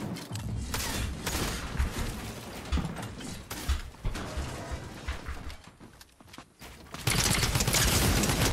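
A drum gun fires in a video game: dense, rapid bursts of automatic fire sound almost continuously, loud and close, with brief gaps and a heavy final burst.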